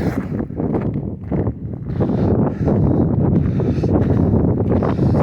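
Gusty wind buffets the microphone, a low roaring rumble that rises and falls, growing stronger and steadier toward the end.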